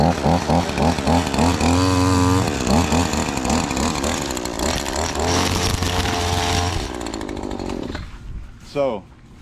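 A battery-powered string trimmer whines loudly and steadily, its pitch rising and falling in revving bursts, with a person talking over it; near the end it winds down to quieter handling noise and a brief rising whir.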